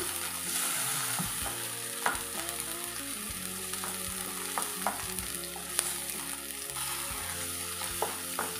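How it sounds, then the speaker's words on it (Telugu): Ivy gourd chutney frying in a pan gives a steady close sizzle throughout, with occasional clicks of a spoon stirring against the pan and no voices. "ఒక 2 నిమిషాలు ఇలా పచ్చివాసన పోయే వరకు వేగనిచ్చి"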